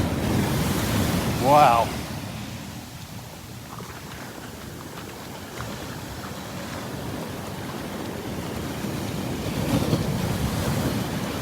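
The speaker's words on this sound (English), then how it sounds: "Wow. Nice waves." Ocean waves roll and break at Barefoot Beach Preserve, a steady surf roar with gusty wind over the microphone, swelling again near the end; a man briefly exclaims early on.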